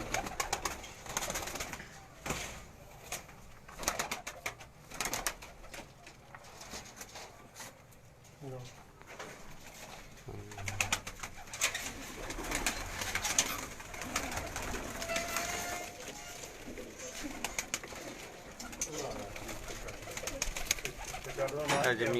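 Several pigeons at a home loft in Jalalpur Bhattian coo softly and repeatedly beneath steady talking, with other small birds mixed in around them and chirping now and then in a busy, noisy yard.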